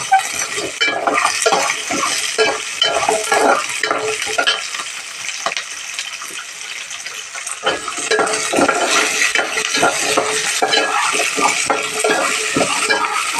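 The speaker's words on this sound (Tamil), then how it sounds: "நல்லா பொன்னிறமாக இதையும் வதக்கிக்கணும்" Onions sautéed in a pan until golden, steady sizzling frying with repeated scraping and clinking of a spoon stirring against the metal throughout, close and fairly loud, no voices.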